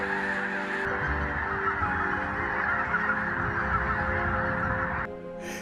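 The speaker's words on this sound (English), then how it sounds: "of thousands of snow geese" A vast flock of migrating snow geese honks continuously in a dense, loud chorus of overlapping calls throughout.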